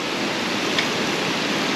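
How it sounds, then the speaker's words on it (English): Heavy rain falls continuously in a steady, even hiss, close and unbroken across the short stretch, with no voices over it. "it's raining very hard"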